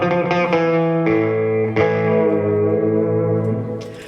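Electric guitar played through a clean amp with delay and heavy reverb, loud sustained chiming notes with a few sharp attacks and long echoing tails at a live clinic.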